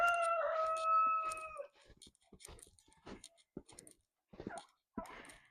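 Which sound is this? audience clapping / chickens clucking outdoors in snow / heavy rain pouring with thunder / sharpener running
chickens clucking outdoors in snow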